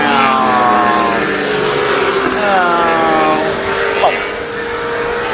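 Ducati and BMW superbikes race past at Oulton Park during a 2023 British Superbike race, loud engines whining up and down through gear changes nearby, with a spectator exclaiming briefly.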